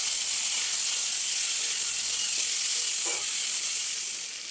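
Ginger paste, tomato and spices sautéing in a pan make a continuous bright sizzle, close and steady, tapering a little at the end.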